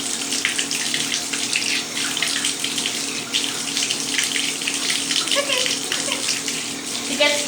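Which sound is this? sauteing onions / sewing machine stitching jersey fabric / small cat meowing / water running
water running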